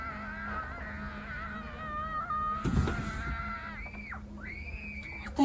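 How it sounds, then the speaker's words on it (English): Eerie screaming outside a camper van at night on a camping trip: drawn-out, wavering high cries rise and fall toward the end over a steady low hum, sounding somewhat distant. "Don't you hear that screaming?"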